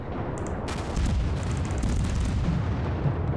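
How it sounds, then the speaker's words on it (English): A Mogami cruiser in World of Warships fires a naval gun salvo, a deep booming rumble that swells and sustains for a few seconds with sharp cracks at the start. "probably get one more salvo"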